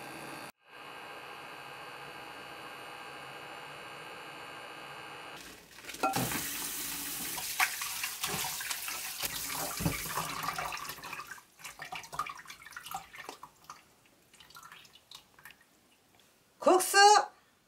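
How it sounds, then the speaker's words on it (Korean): Water is poured from a tap or cup into a pot of noodles boiling hard for kimchi bibim-guksu, a steady hiss and splash lasting several seconds, close and fairly loud, with drips and clatter afterward. "국수를 이렇게 팔팔 끓일 때 물을 조금만 이렇게 부어주세요"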